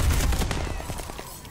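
Rapid gunfire from the video game Call of Duty Vanguard, a loud, dense burst of repeated shots with quickly decaying echoes.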